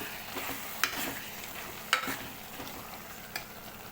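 Eggplant and tomato curry being stirred in a pan, with a soft continuous sizzle broken by a few sharp spoon scrapes against the metal at irregular intervals.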